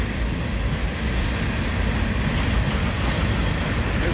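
An empty coal train rolls steadily along the rails, with a grain train passing on the other track. It makes a continuous broadband rumble and roar, even and close, with no talk.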